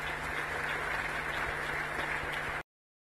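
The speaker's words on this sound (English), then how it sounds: "Let's give all the awardees a huge round of applause," An audience at an export awards ceremony with the President of India applauds the awardees, a dense, steady round of clapping that cuts off abruptly.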